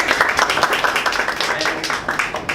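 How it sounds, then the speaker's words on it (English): Applause from a small audience at a Toastmasters evaluation session, a dense patter of hand claps that stays steady and fairly close for the whole stretch. "let's give it a big round of applause."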